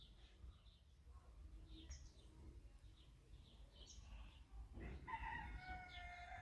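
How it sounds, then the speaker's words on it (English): A chicken calls outside, heard from a balcony: a quiet, distant outdoor scene gives way midway to a loud, drawn-out rooster crow that carries to the end. "There it is, there's a chicken sound."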